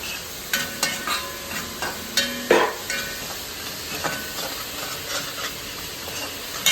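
Tapioca being stirred in a hot pan, repeated close scraping and clinking strokes of a spoon against the pan over a low, steady sizzle.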